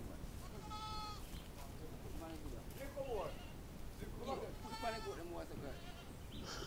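A goat bleats several times in quavering calls over a noisy background, with people talking around it.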